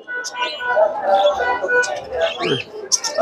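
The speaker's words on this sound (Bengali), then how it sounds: "এখানে সুন্দর সুন্দর বাজিগার। এগুলো বড় সাইজের পাখি, ক্লাসিক পাখি।" Budgerigars chirp and twitter at a crowded bird market, rapid bright calls mixed with a busy crowd hum and a nearby voice talking.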